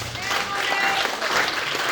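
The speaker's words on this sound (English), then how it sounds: "Can we give Mommy Aluko a round of applause" Applause from an audience at a book launch event, steady dense clapping throughout with a few voices mixed in.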